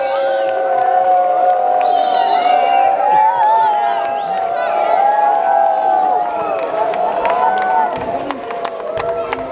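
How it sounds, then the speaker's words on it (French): Crowd at a youth rugby tournament prize ceremony applauding the Stade Montois team, sustained clapping and cheering with whoops beneath a loud voice over a public address system. "on applaudit le Stade Montois"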